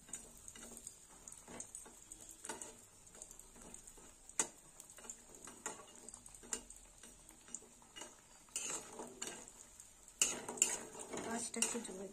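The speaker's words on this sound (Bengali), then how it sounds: "বড়িগুলো আমি ভেজে নেব। একটু লাল লাল করে ভাজবো" Bori lentil dumplings frying in a pan for karela sukto, with repeated clinks and scrapes of a utensil stirring against the pan, close by over a faint background hiss; no talking.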